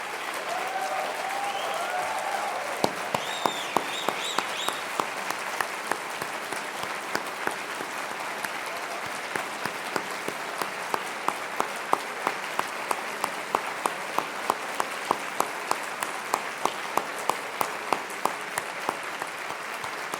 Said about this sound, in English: I want to give a huge round of applause for the O'Hare attorneys that were first on the ground